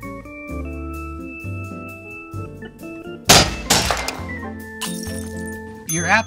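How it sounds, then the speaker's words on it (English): A phone is struck by a hammer and shatters, a sudden loud crack with a burst of breaking and clattering debris, then a second smaller crash, set against a sustained musical background. "It was struck by a hammer manufactured in 2005 by Harry's Hammers."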